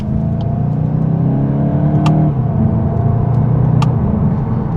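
A 2026 VW Golf 8.5 GTI engine pulls steadily under acceleration from inside the car, a loud, constant drone with a brief dip as it shifts, and no talking.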